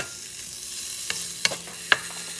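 Tocino, pork belly, sizzles in a pot without added oil, a soft continuous frying hiss broken by a few sharp pops and utensil clicks.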